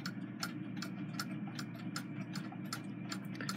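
A Waterbury triple-decker Westminster chiming clock ticking, steady evenly paced crisp ticks close by over a low mechanical hum, with no talking.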